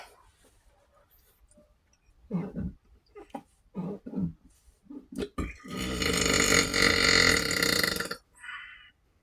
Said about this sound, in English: I think that was a ginger burp.